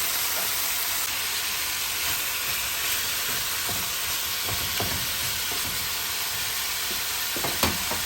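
Lamb sizzles steadily in a stew pot, a dense, continuous frying hiss running the whole time with a few small pops and stirring knocks near the end, no talking.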